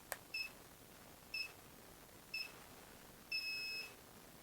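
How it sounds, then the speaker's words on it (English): A KEEP FUN Mini Change 2-in-1 folding treadmill remote gives four clear electronic beeps from its power button, three short ones spaced about a second apart and a final longer tone, close and crisp over quiet room noise. "You can hear the beep."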